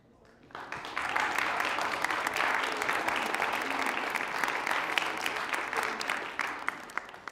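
A student debate audience breaks into sustained, loud clapping that starts abruptly and continues evenly for several seconds.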